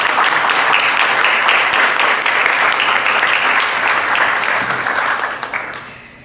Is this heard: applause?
yes